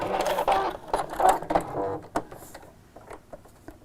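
A home sewing machine stitches a quilted pouch in short, uneven runs, stopping and reversing a few stitches, the mechanical chatter close and fading toward the end.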